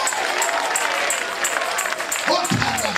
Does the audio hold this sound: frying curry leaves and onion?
no